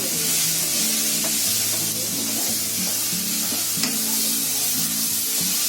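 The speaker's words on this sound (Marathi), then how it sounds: "चवीपुरतं मीठ टाकायचं आणि चांगलं आता ढवळून घेते" Salted chicken-recipe vegetable masala sizzles steadily in a frying pan as a spoon stirs it, with soft scraping under continuous frying hiss and a faint tune running in the background.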